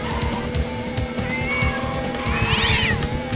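A cat meows once, clear and mid-loud, inside the Hot Wheels Stunt Track Driver racing game, over a steady rumbling engine drone and game noise.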